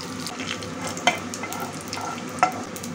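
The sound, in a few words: mustard seeds, cumin, urad dal, dried red chilies sizzling in oil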